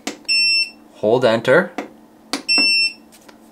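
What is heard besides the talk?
Growatt solar inverter beeping on each button click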